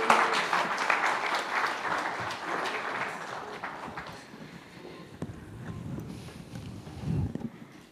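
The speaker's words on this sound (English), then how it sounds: "Can we have one more round of applause?" Applause from a crowd at a short film screening, loud and sustained, gradually thinning out toward the end with a few scattered claps and some background murmur.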